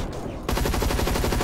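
Rapid machine gun fire in the video game Hazard Ops, a loud, close, tightly repeated burst of shots that starts abruptly partway through and keeps a steady fast rhythm.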